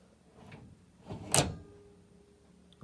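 A Sharp microwave drawer (SMD2470ASY) slides shut with a short, sharp click, a quiet rolling slide building into one crisp latch sound, then fading back to near silence.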